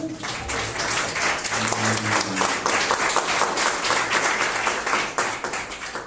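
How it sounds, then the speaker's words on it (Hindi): A church congregation applauds, sustained loud clapping from many hands that carries on evenly for several seconds, with a brief tonal sound early on. "मेरे परमेश्वर के लिए जोरदार तालियां होनी चाहिए"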